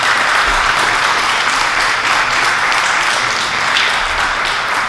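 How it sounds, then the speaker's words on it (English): Sustained applause from a crowd at an evening campaign event for a Fairfield city council re-election, dense clapping that holds steady and fairly loud from start to finish. "Please give them a round of applause."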